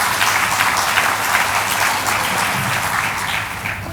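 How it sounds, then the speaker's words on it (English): A room of guests at a book launch gives a warm round of applause, loud, dense clapping that holds steady and then slowly thins toward the end. "So a special round of applause again for Keppel."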